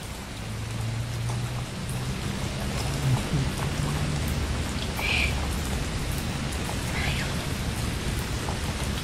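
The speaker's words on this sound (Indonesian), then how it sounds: "Dan hujan juga sudah mulai reda" Steady rain falls outdoors, a dense even hiss throughout with a faint low hum underneath and a couple of brief higher sounds; no one speaks.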